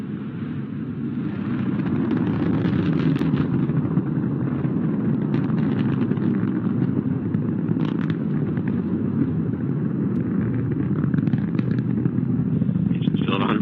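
Northrop Grumman Antares rocket lifting off from Wallops with cargo for the International Space Station, a loud, steady broadband roar that holds without a break throughout, with a voice talking over it.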